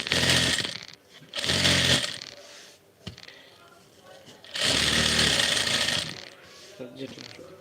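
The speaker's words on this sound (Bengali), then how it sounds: "টিস্যু কাপড়ের ভিতরে লেস লাগাই সেলাই করতেছি" Sewing machine stitching lace into thin tissue fabric for a three-piece outfit, running in bursts of a few seconds each with pauses between, close and fairly loud, with faint voices in the gaps.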